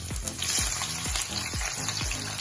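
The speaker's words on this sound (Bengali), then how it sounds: "একটি পাত্রে তেল দিয়ে আমি এখন দিয়ে দিচ্ছি এর মধ্যে তেজপাতা, শুকনো মরিচ, গোটা গরম মশলা, পেঁয়াজ কুচি দিয়ে দিচ্ছি।" Bay leaf, dried chilli, whole spices and chopped onion frying in hot oil in a pan, a dense steady sizzle with a soft stirring stroke recurring roughly every half second, close and unaccompanied by talk.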